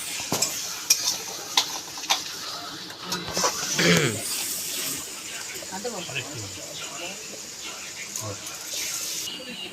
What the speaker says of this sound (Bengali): ভাত হচ্ছে মশলা হচ্ছে মশলা কষা